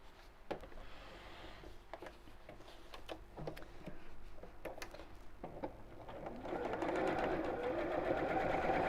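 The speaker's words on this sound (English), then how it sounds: "And sew straight across here." A sewing machine stitches straight across fabric pieces that have foam inside, first in short bursts of rapid clatter, then in a longer, louder continuous run near the end.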